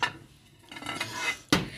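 A ceramic serving dish lifted out of a dinner set, with a light clink at the start, soft shuffling, then a sharper ceramic knock near the end, quiet and close.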